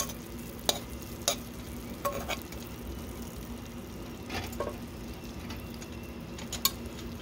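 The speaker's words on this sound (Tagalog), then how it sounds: "Ating haluin ang ating gulay." Okra and bitter gourd are stirred in a pan, with scattered utensil scrapes and clacks over a faint, steady sizzle, quiet and without talking.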